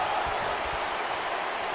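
A video game wrestling crowd in WWE 2K19 roars in a steady, dense wash of cheering and clapping throughout a cruiserweight match, fairly loud and continuous.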